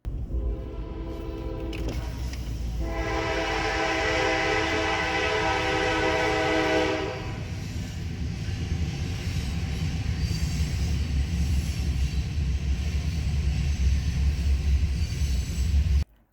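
A Norfolk Southern freight train led by three GE locomotives crosses Industrial Boulevard, with a steady, loud rumble throughout and a sustained horn blast sounding for about five seconds near the start.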